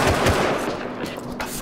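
Gunfire in the survival game Rust: dense, continuous shooting fills the whole short stretch at steady loudness, with some muffled voice beneath it.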